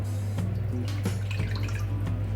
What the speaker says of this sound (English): We'll add 1 cup of water